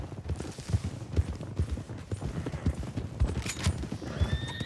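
Horses clip-clop along at a steady gait in Red Dead Redemption 2, with rhythmic hoofbeats close by, a whinny, and faint distant gunfire.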